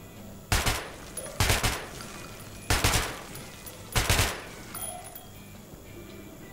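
Gunfire from a weapon on a firing range in the Metro video game: four loud short bursts of rapid shots, evenly spaced about a second apart, with quieter gaps between them.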